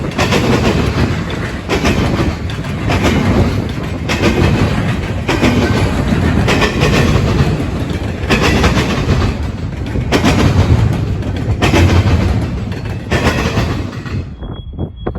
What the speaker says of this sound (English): I008 is a daily intermodal train